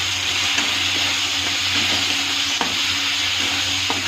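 Salt frying in a hot pan, with raw potato still to be added, gives a steady close broadband hiss, a low hum beneath it and a few soft stirring scrapes scattered throughout, with no voices.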